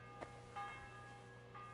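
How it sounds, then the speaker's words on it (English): Bell tolls in a medieval role-playing game, a few soft strikes with a long ringing tail over a steady low hum, fairly quiet and with no talk. "The bell's ringing for Hans the 5th time."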